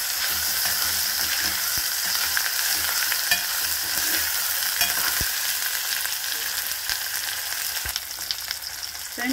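Green chillies sizzle steadily in hot oil in a pan for an East Godavari prawn and chukkakura dish, a continuous bright hiss punctuated by occasional sharp clicks of a utensil against the pan.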